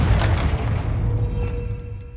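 A Confringo fire spell blasts in the Hogwarts Legacy video game, a heavy booming burst that decays over about two seconds with a faint high shimmer trailing off.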